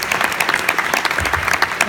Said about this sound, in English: I think we should give a round of applause for Stan Winston.